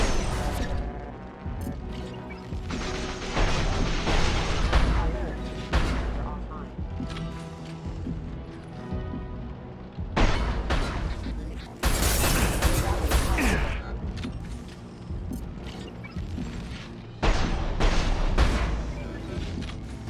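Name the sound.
heavy gunfire and explosions in Mass Effect 2 video game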